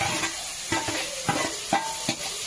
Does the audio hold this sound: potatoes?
yes